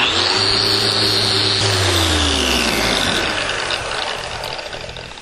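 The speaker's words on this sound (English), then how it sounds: "we're going to finish sand it" Power sanding a log hand rail coupling with 120-grit sandpaper, a loud continuous machine whir with a gritty rasp that steadies and then gradually eases off toward the end.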